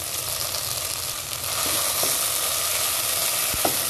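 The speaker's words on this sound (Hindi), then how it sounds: "अब मैं इसमें ऐड कर दूँगी कटी हुई शिमला मिर्च।" Chopped capsicum hits a pan of cooking chicken, producing a loud, steady, close sizzle and frying hiss that continues throughout with faint stirring clicks and no voices.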